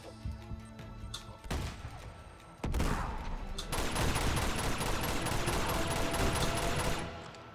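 Rapid gunfire from the Uncharted 2 video game, bursts of shots and impacts building into a dense, sustained volley of loud automatic fire, with no voices over it.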